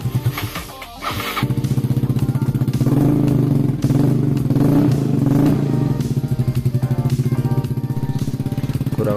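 A motorcycle fitted with an RCB aftermarket exhaust made in Purbalingga starts up and idles with a loud, throbbing, rapid exhaust pulse, close by and steady, with a slight rise in revs partway through.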